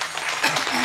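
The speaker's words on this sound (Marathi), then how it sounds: "तुमच्यासाठी जोरदार टाळ्या वाजवा" A crowd at a Marathi kirtan claps in a brief, dense burst of applause.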